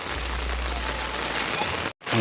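Heavy rain falls steadily on a village, a dense continuous hiss of rain on surfaces that cuts off briefly near the end before resuming loudly.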